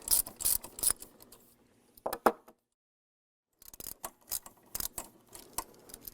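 10 mm socket wrench loosening the brake bolt on a manual wheelchair, sharp close clicking ratchet bursts in short groups, then a pause of near silence before more rapid clicks resume.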